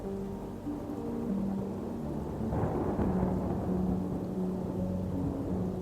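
A bedtime-story thunderstorm sound effect: a deep, continuous rumble of thunder swells to a peak midway, with steady rain hiss underneath and no voices.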